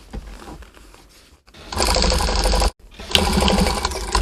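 A sewing machine topstitches the right side of a jacket lining, sewn with elastic. It runs in two loud, steady bursts with a brief pause between them, preceded by quieter handling noise.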